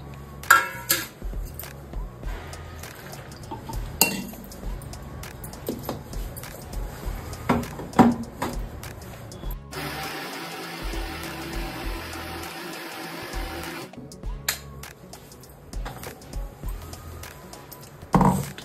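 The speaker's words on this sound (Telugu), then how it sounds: "2 టమాటాలు, 2 ఉల్లిగడ్డలు వేసి మంచి మెత్తగా మిక్సీ పట్టుకుందాం" A kitchen mixer grinder whirs loudly for about four seconds as it grinds two tomatoes and two onions into masala. Clinks of utensils and dishes come before and after the motor runs.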